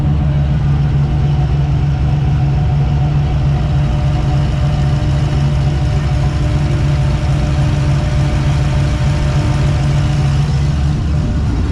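A turbocharged LS car engine that overheats idles steadily and loudly at close range, a constant low rumble and drone with no change in pitch throughout.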